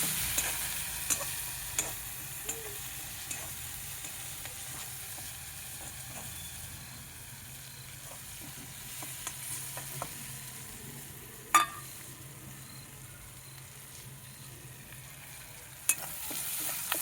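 Ground lentil paste frying in a pan on a wood-fired clay stove on a terrace, a quiet continuous sizzle with occasional faint clicks and taps, no talking.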